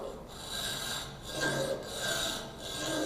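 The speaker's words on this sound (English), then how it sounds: "Straightforward filing is done by pushing the file straight ahead across the work." A hand file pushed straight ahead across the work in steady forward strokes, giving a repeated rasping scrape with short pauses between passes, close up and alone.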